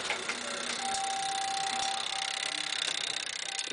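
Coded doorbell system ringing with a continuous bright, loud electronic tone and a buzzing, sparking texture throughout.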